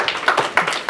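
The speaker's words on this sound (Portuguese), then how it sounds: "Palmas para o Senhor também." A church congregation claps in a short burst, several sharp, close claps in an uneven rhythm during a worship service.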